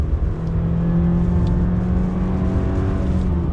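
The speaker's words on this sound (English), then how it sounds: "On throttle, the CVT doing its thing." A 2021 Subaru Crosstrek Sport with a CVT pulls steadily on a wet road, its engine drone holding an even, sustained pitch under a constant wash of road and tyre noise from inside the cabin.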